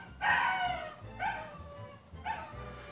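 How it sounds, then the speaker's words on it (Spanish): A dog barks three times in a row, each bark followed by a short gap, moderately loud with a slightly whiny, yipping edge and no speech. "está ladri ladri este pinche perro"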